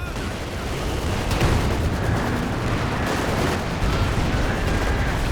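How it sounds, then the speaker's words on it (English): A B4 howitzer shell strikes a Panzer IV in Company of Heroes 2, sitting inside a dense, continuous wash of rumbling battlefield artillery and explosions that stays loud throughout. "Was that a B4 shot?"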